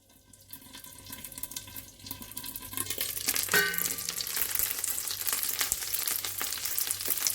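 Seafood fries in a covered pan over lowered heat, building from a soft crackle into a loud, dense, continuous sizzle that fills the whole stretch, close up and with no talking.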